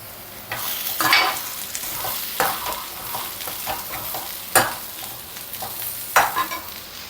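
A spatula scrapes and stirs potato fry in a pan at close range, with irregular sharp scraping strokes over a soft, continuous sizzle, and no voices.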